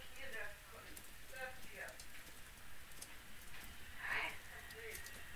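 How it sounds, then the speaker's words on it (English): Hail patters steadily in a stealth video game, a faint, continuous rain-like hiss with scattered brief taps and some soft murmuring voices. "Is hailing in this game."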